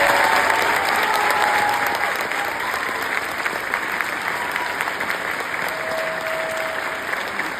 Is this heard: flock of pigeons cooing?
no